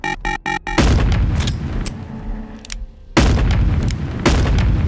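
Gunshots from a weapon in the video game Animal Company, with rapid sharp bursts at the start followed by several loud booming blasts separated by brief gaps.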